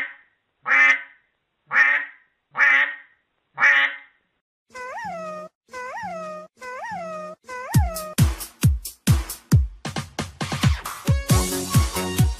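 A duck quacks in a children's animal-sound lesson, starting with four evenly spaced loud quacks, followed by a run of other sharp animal calls that grow quicker and denser, with no speech.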